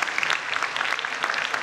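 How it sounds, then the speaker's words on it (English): Audience applause at a corporate breakfast conference event, a dense, continuous wash of many hands clapping at once, fairly loud and close, brief and without pauses. "so a round of applause for them"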